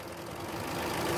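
Unstable car engine idling with RPM that rises and falls, a steady close mechanical hum with a slight swell in level toward the end, no voices.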